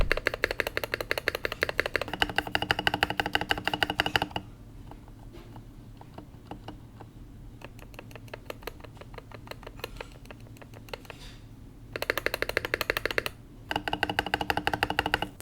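Budget mechanical keyboard with stock plate-mounted stabilizers, typed on steadily: dense, fast clacking bursts at the start and end, with lighter, sparser key taps through the middle, close and alone with no voices.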